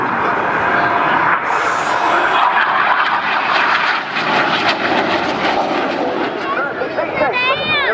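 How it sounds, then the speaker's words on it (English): A low-flying jet aircraft passing at an airshow in Portrush, its loud roaring engine filling the scene and swelling then fading, with crowd noise and commentary audible beneath it. "There's a low jet right behind."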